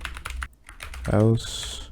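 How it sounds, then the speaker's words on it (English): Fast typing on a computer keyboard while coding a productivity app in Python, a quick run of close clicky keystrokes before a brief spoken word over a few more taps. "Just so I don't mess up the typing."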